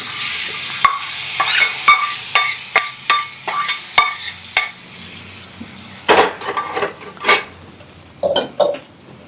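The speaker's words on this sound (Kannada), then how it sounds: "ಒಗ್ಗರಣೆ ಹಾಕ್ತಾ ಇದ್ದೀನಿ" Mustard seeds and spices crackle and sizzle in hot oil for a Karnataka-style tempering, with sharp popping bursts over a steady frying hiss, close and fairly loud, spoon clinks mixed in.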